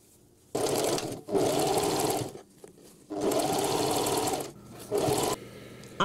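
Sewing machine joining two tote bag handles at a one-centimeter seam allowance, running in three loud bursts of fast even stitching, close up, with short quiet gaps between them.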